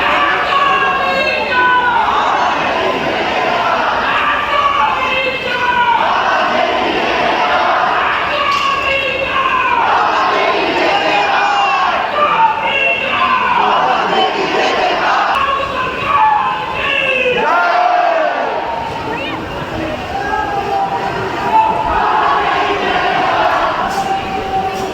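A dense crowd of devotees at the Khatu Shyam temple in Rajasthan, a loud continuous wash of many voices, calls and chanting throughout, with people talking nearby.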